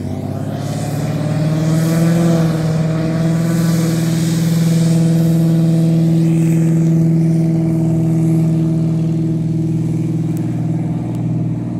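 Small private plane taking off ahead of an approaching storm, its engine droning loud and steady close by for the whole stretch, the tone shifting slightly as it gathers speed, with no talking.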